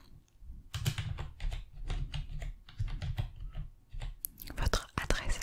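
Rapid computer keyboard typing very close to the microphone during an ASMR medical exam roleplay, with dense crisp clacking keys running almost continuously and a few brief soft vocal sounds mixed in.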